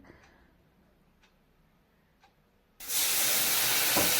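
Turmeric and spices hit a hot cooking pot with greens, plantain and small mourala fish, bursting into a loud, sustained close sizzle after a few quiet seconds with only faint ticks.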